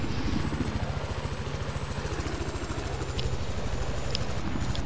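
An aircraft in the video game Battlefield 4, heard as a helicopter-like rotor thumping in a fast, steady pulse throughout, fairly loud and close, with faint game noises on top.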